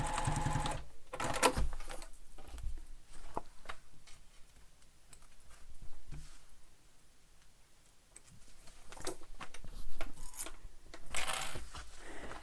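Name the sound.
sewing machine stitching backpack side seam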